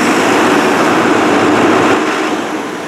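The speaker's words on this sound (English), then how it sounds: "See how the engine RPM kicked down?" A JCB backhoe's diesel engine runs loud and steady, then its revs drop off toward idle in the final second, the roar easing down to a lower hum.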